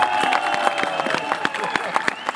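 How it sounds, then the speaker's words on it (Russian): Audience applause at an event at the Sonyachna Dolyna resort, honouring a man: a steady patter of many hands clapping with crowd noise and voices mixed in, continuous through the moment. "Друзі, ще раз ваші аплодисменти"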